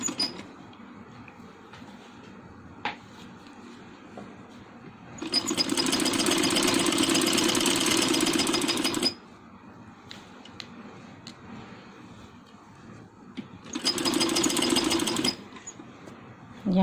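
A sewing machine stitches down a folded fabric margin on a handmade baby boy's dress, with two loud, steady runs of close humming and whirring, the first about four seconds long and the second shorter, with quieter gaps between.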